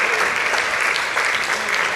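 A church congregation claps together in a dense, steady round of applause, close and sustained throughout.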